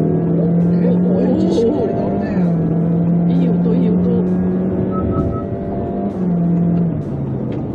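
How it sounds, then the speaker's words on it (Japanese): A 2021 Honda Vezel pulls onto a highway in sport mode, its engine drone steady and loud inside the cabin with a rising then shifting tone, heard under road noise while people talk. "スポーツモードの加速はどんなもんか"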